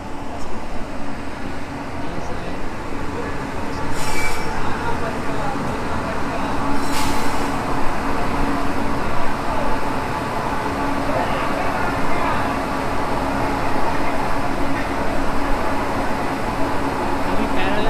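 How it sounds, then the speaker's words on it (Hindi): Jaleshwar MEMU train passing alongside on the Howrah–Chennai route near Bhadrak, a steady continuous rumble and rolling roar heard from inside a moving train, with a couple of brief sharp bursts over it. "पूरी जलेश्वर मेमू ट्रेन क्रॉस कर रहा है।"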